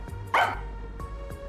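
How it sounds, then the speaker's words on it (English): Sugar the dog barking in Master Detective Archives: Rain Code, a single sharp close bark over a low steady background hum, followed by faint soft ticks. "She barks at me all the time."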